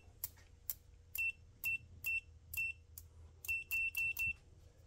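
A Leolov MT2202 touchscreen multimeter gives a series of short, sharp electronic beeps as its probes touch, about ten chirps in an uneven rhythm preceded by faint clicks, clear and close over a quiet background.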